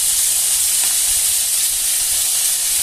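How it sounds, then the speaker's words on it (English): Chunks of pork meat hitting hot oil in a pan and browning, a loud, steady hiss of sizzling that fills the kitchen without pause. "I'm going to chuck it all in, just the meat, and I'm going to quickly brown it off"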